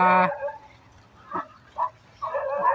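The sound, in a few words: dogs barking near cottages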